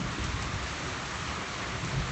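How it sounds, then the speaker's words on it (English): A thunderstorm breaking over Johannesburg, South Africa, during a drought: steady, dense rainfall that is loud and continuous, with a low rumble of thunder underneath and no voices. "A lovely thunderstorm breaking, well hopefully breaking the drought we've had in the country."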